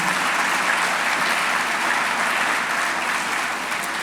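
An audience applauds at the Institut maritime du Québec 2022 graduation ceremony, a dense, even wash of clapping that stays loud and steady throughout, with no voice standing out.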